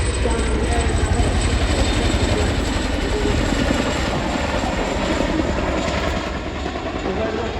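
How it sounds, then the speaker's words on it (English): An RAF Chinook CH-47 twin-rotor helicopter flies close by, its engines and rotors making a loud, steady, dense roar with a rapid low blade throb that holds throughout. "the Chinook will now reposition to provide overwatch to the troops on the ground"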